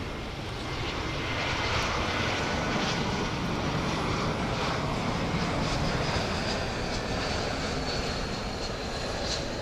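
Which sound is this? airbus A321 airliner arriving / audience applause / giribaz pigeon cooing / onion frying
airbus A321 airliner arriving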